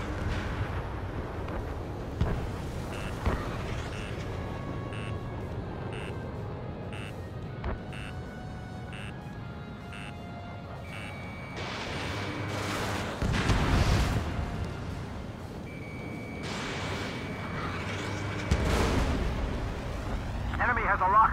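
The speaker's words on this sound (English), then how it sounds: "Missile hit." Missile hits in Ace Combat 7, flying an F-35: several broad, heavy explosion bursts roll out over steady jet engine drone and repeated cockpit tones, with radio chatter speaking between the blasts.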